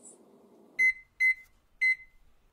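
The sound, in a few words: microwave oven heating jelly candy mixture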